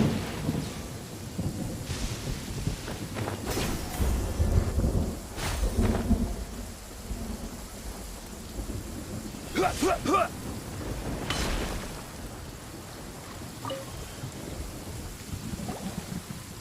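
Thunderstorm with rain in the Genshin Impact video game: steady rainfall under several rolling thunder rumbles and sharp cracks, with a faint voice briefly audible.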